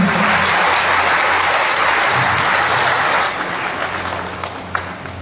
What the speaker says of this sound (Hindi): जोरदार तालियां होती हैं।